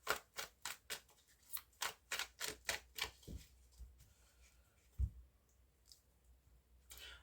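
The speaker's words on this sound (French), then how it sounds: "je brasse encore un petit peu et je passe à la coupe" Tarot deck being shuffled and then cut, a close run of sharp, regular card clicks for about three seconds, followed by a few scattered softer taps and a quiet stretch.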